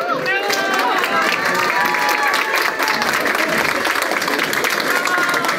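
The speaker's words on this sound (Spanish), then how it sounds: "Un fuerte aplauso para Noemí Abigail Mamani García." A crowd applauds loudly for an award winner at the ANBA 2022 salon prize ceremony. Dense, sustained clapping runs throughout, with cheering and crowd murmur mixed in.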